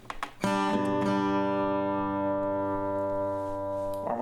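A sustained strummed chord on an acoustic guitar, part of a song played at its original tempo, rings out loud and alone after a brief attack, holding steady for several seconds.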